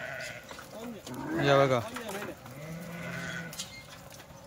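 Kathiawadi sheep bleat in a livestock pen, one loud wavering bleat rising near the middle with fainter animal calls around it, while someone talks over them.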